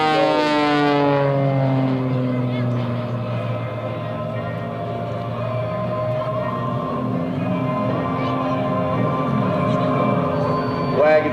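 An Extra 300 aerobatic airplane engine at an air show drones loud and continuous, its pitch sweeping and wavering as the aircraft maneuvers, with an announcer talking over it.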